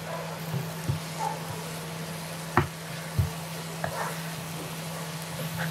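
Chilli, salt and turmeric sautéing in a pan give a low, steady sizzle, punctuated by several sharp knocks and scrapes of a spoon stirring against the metal.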